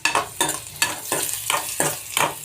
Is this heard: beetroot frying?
yes